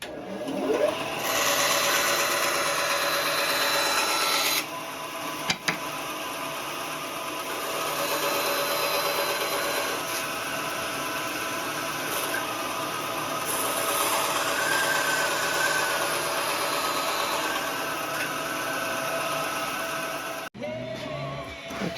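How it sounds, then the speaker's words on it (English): A small bandsaw fitted with a big ripping blade cuts a wooden rifle pattern in a woodshop, a steady motor hum and blade buzz running in long stretches, briefly dropping before resuming. "we're going to do this pattern on the small bandsaw"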